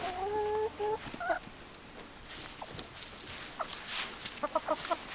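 Hens of a gentle, lighter chicken breed cluck in a series of short, bright calls close by, with quiet rustling and faint outdoor ambience between the bursts.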